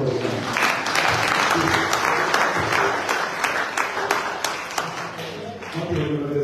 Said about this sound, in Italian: fate un applauso al predicatore